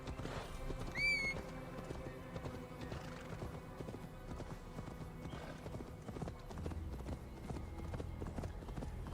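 Horse in the video game Assassin's Creed Valhalla, a sharp neigh early on followed by continuous rhythmic clip-clopping hooves at a gallop, moderately quiet throughout.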